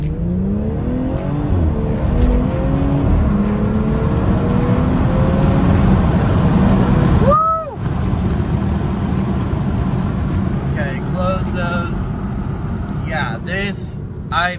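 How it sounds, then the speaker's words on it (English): A 2016 BMW 340i M-Sport, rear-wheel drive with a ZF automatic transmission, revs hard through rising gears, climbing in pitch with brief shift breaks, loud and close from inside the cabin, with a voice speaking briefly near the end. "I love how this car pulls"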